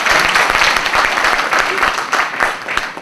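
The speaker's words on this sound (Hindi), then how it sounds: "ताली पीटेंगे आप इनके लिए" An audience at a solar energy lecture during the INSPIRE Camp 2016 breaks into loud, dense applause, many hands clapping continuously and close.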